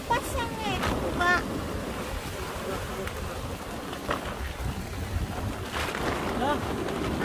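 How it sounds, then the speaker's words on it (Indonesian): Strong wind roars in a steady, loud rush at a beach family campsite during a rainstorm, with gusts swelling over it and voices faintly audible underneath. "anginnya kencang betul lah."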